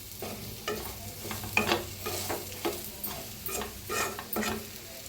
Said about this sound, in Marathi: 1 मिनिटभर असंच भाजायचं, म्हणजे बडीशेपू छान भाजलं जातं।